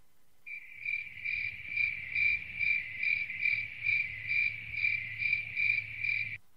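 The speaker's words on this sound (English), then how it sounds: "I wish I had your cricket noise." A cricket chirps in a steady pulsing trill, loud and close and alone, repeating evenly over a low background hum.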